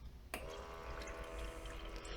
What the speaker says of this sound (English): Water is being pumped over those little metal tubes, and it's basically going to start to getting chilly and make the ice.